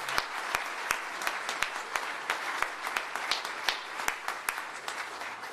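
An audience at a school merit ceremony applauds students receiving merits, a steady, dense roll of hand clapping with a few sharper, distinct claps standing out in a large room.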